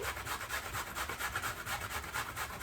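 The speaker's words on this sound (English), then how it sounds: "it makes it more slippery and harder to hang on to while you're grating them." Zucchini being grated on a grater, a quiet, steady rasping scrape repeating in quick regular strokes, close and alone.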